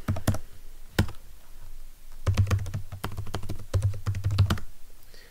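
A command typed at a computer keyboard while switching users in an Ubuntu virtual machine: close, crisp key clicks in quick bursts separated by short pauses.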